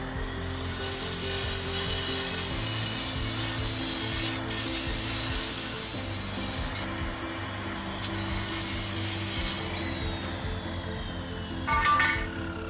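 Aluminum solar panel mounting rails being cut to size for a residential grid-tie system, a loud, close, grinding and rasping cut in long bursts with short pauses between them, then a few sharp clanks near the end.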